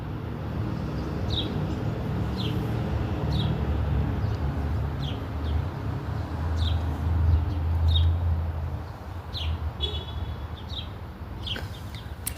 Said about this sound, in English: just the simple music of the birds singing